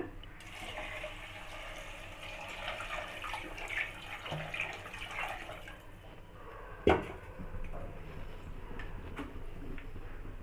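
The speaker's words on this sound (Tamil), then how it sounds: "அஞ்சு கப் தண்ணி சேர்த்துப்போங்க" Five cups of water poured into a pot while making ven pongal, a steady splashing, running-water wash close by with a brief louder clunk partway through.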